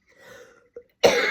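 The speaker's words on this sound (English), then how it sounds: "Now, if you cough at the end, that is good." A breathy exhalation through the mouth during a qigong breathing exercise, then a brief pause and a single sharp, loud cough close by to finish.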